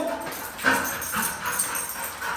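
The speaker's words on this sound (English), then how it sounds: "Definitely very mouthy dog, barks a lot, makes a lot of noise." A five-year-old Goldendoodle gives short yips and whimpering whines, several close, high-pitched cries in quick succession with no talk over them.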